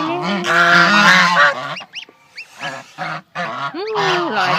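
Month-old goslings honking loudly and close up, a run of harsh, nasal calls with short rising squeaks and brief pauses between bursts.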